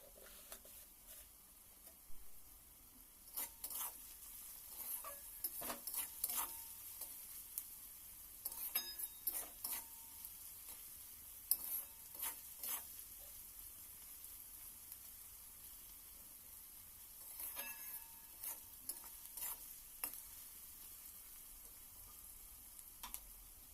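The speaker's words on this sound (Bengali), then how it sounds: "খুব ভালোভাবে নেড়ে চেড়ে নেবেন যেন পুড়ে না যায় বা খুব ব্রাউন কালার না চলে আসে" Capsicum and onion for cabbage manchurian fry quietly in a pan, a soft low sizzle broken by scattered clicks and scrapes of a spatula stirring at irregular intervals, with no talking.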